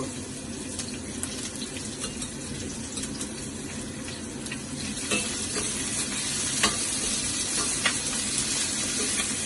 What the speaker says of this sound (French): Je mets maintenant ici mes oignons mélangés avec de l'ail.